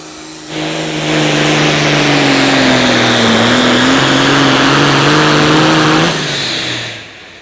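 A Someday pulling tractor driven by Chad Weisenkamp revs hard on an outlaw tractor pull track at Wisner, Nebraska, a loud sustained engine roar with shifting pitch that rises in, holds for several seconds, then cuts off.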